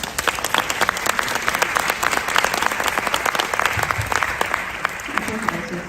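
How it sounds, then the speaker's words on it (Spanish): Audience applause at a book presentation about a historic café, sustained crisp clapping from a full room, loud and close, with a few voices underneath and a slight thinning near the end. "un aplauso, por favor."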